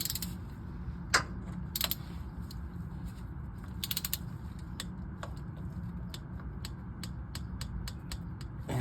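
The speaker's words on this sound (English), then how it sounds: "We're gonna torque that bolt." Torque wrench clicking as it tightens a shift solenoid bolt on a Toyota Tundra, with a series of small, sharp, evenly spaced ticks over a low steady background hum and no talk.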